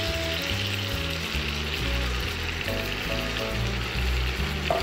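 Cod fillet searing in melted butter in a single pan gives a steady, close sizzle throughout, with a music track playing underneath.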